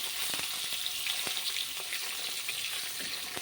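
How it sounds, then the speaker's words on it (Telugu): Eggs fry in a pan of hot oil while being slowly turned and mixed for an egg curry. There is a steady bright sizzle with soft intermittent scraping and stirring clicks, close up and with no talking. "చూడండి, వీటిని నెమ్మదిగా తిప్పుతూ కలుపుతూ ఫ్రై చేసుకోవాలి."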